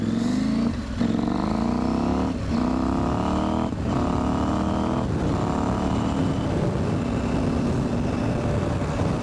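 KTM 790 Adventure motorcycle accelerating on the road, engine pitch climbing through several gear shifts with brief dips between, loud and close with wind rush.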